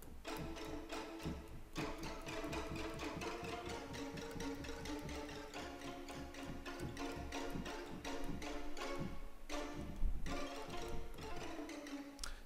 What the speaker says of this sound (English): And collegno, which is like, you know, a very familiar sound.